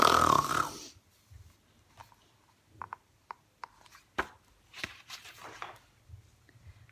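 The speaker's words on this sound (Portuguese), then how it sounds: "De repente, o Luís estremeceu e roncou mais alto do que há pouco" A lynx snores loudly as an audiobook sound effect, a loud snort opening the clip, then a run of short rasping snores and snuffles recurring irregularly, fairly close, with no talk.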